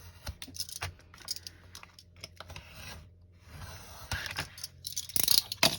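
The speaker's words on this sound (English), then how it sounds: "Now I'm gonna cut it." Scissors cut through a paper lapbook cover, making close, quiet, uneven snipping and rustling sounds in short bursts, growing busier toward the end, with no talk.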